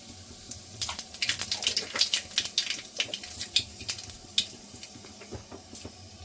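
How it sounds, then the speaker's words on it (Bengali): Black cumin (kalo jeere) seeds sizzling in hot oil in a kadai wok, a steady crackling fry with sharp pops and spits scattered throughout, close and moderately loud, no voices. "দেখুন কড়াই গরম হয়ে গেছে, দিয়েছি কালো জিরে।"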